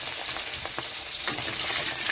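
Tengra fish fries in a pan of hot oil for a village-style Bengali fish curry, giving a steady, dense sizzle with a few soft pops and stirring clicks, and no talk.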